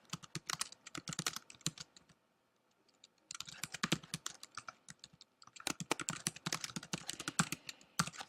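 Rapid typing on a computer keyboard while entering credit text, with quick clustered key clicks in bursts separated by short pauses, close and fairly quiet.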